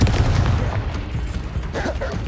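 A fiery Confringo spell blast in Hogwarts Legacy, a loud, dense booming burst filling the short moment with crackling impact noise and no talk.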